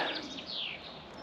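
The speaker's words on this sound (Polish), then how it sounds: "pięknie las słychać, pięknie słychać już ptaki" Faint, high bird chirps and trills over a soft outdoor hiss, brief and distant, with no voices.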